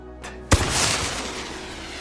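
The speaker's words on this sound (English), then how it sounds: "They fire the flare" A flare gun fired by soldiers on a wartime mission to signal comrades: one sharp, loud report followed by a lingering hissing rush that fades slowly.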